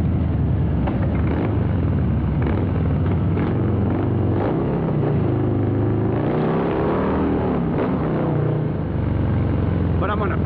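A 2023 Harley-Davidson Breakout with a 117ci engine and Rinehart exhaust rumbles steadily on a test ride, its low engine note rising and falling under a rider talking over it throughout.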